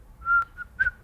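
A person whistles two short, clear, fairly high notes, close and alone, with a brief gap between them.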